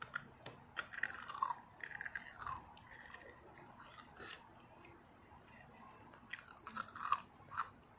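Two brothers crunch on spicy chips, with crisp bites and chewing bursts clustered near the start and again toward the end, close and fairly quiet, with brief soft voices now and then.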